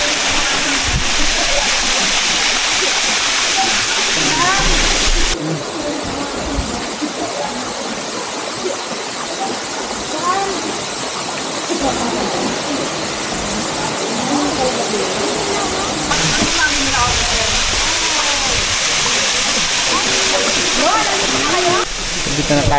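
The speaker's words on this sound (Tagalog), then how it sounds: "Ayan yung mismong falls, oh." Batlag Falls in Rizal pours with a loud, continuous roar of rushing water heard up close, steady throughout.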